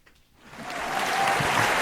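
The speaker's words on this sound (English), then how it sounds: "Round of applause for getting James Harden." Applause from a small group starts faintly and swells quickly into a steady clapping wash for a brief moment.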